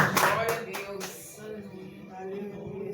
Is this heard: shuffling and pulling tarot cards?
no